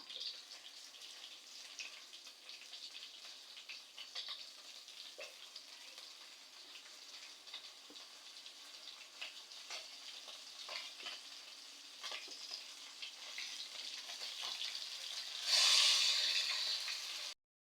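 Soft, steady sizzling and crackling of fish frying in hot oil, continuous throughout and swelling louder near the end.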